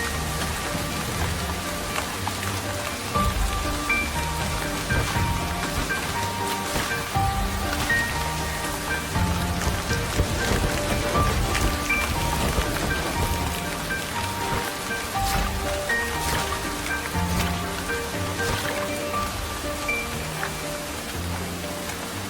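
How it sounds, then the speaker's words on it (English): Heavy rain from an enormous storm pours down without letup, a dense, loud, steady hiss of drops hitting surfaces throughout, with no voices. "Hour after hour, the rain just keeps on coming."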